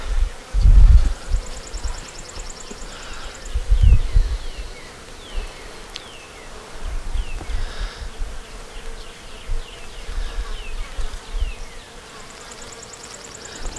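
A big bee swarm hums in a dense, continuous buzz close by outdoors, with individual bees zipping past and occasional low thumps and rustles underneath.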